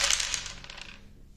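Dice rolled onto a table during an Orks versus Adeptus Custodes tabletop wargame, a quick faint rattling clatter that fades out within about a second, with no voices.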